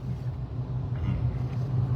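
A car engine idling on a road gives a steady low rumble, fairly close and continuous with no talking.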